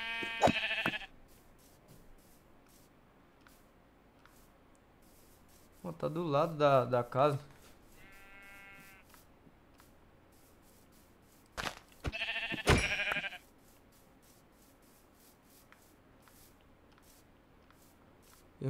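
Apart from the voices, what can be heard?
sheep bleating in Minecraft video game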